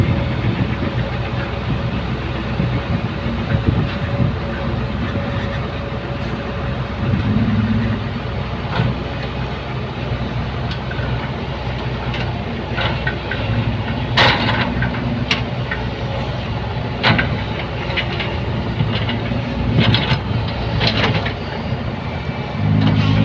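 A Hitachi 120 excavator works hard, compacted field soil, its diesel engine droning steadily nearby while scattered knocks and clunks of digging break through the continuous rumble.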